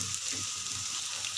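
Onion, cashew and spices frying in a pan give a steady, bright sizzle throughout, close and even, with faint low stirring movements underneath.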